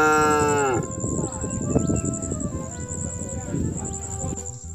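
A cow gives a single loud, close moo that lasts about a second and ends in a rough, breathy tail, with no talk alongside it.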